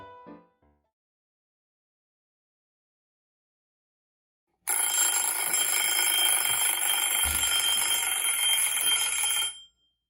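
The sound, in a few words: kitchen timer alarm ringing for cupcakes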